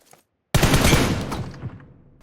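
A loud burst of rapid gunfire in PUBG Mobile, played in solo mode, starts abruptly after a brief silence and lasts close to two seconds before it tails away. A faint shot is heard at the very end.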